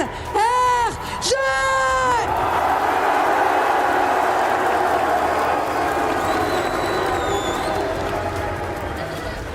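A large arena crowd roars and cheers continuously at a VALORANT esports final, a loud sustained wash of voices that slowly eases, with a caster's voice over the start.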